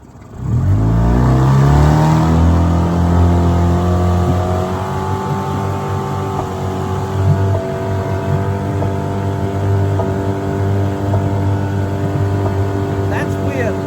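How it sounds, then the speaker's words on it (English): Hidea 15HP outboard engine fitted with a 9-pitch propeller, running loud and steady as the boat gets up to planing speed, with a strong harmonic drone that rises at the start and then holds nearly constant. "Hear the sound of the engine."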